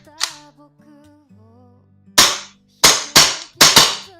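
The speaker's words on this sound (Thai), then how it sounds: "ใส่แก๊สเทสให้นะครับ ไปลองยิงเทสดูนะครับ ลองเทสนะครับ" Gas-powered KJW CZ Shadow 2 airsoft pistol, orange, fired in a test: four sharp, loud cracks, the last two close together, after some quiet handling clicks.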